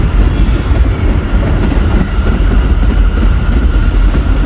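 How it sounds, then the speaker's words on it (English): A New York J subway train rumbles by loudly and close, with heavy low roar and clattering wheels throughout. "The J train."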